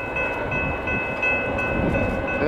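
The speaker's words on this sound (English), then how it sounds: "Short mix freight. Might be some kind of a local train." A short Union Pacific mixed freight train passes, a steady rumble of rolling wagons with a sustained high tonal whine from wheels or horn, close and fairly loud throughout.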